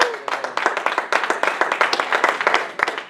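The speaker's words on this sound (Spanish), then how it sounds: "denle un aplauso al Señor" A church congregation claps together in a quick, rhythmic burst of applause during a Spanish-language service, many hands close and loud.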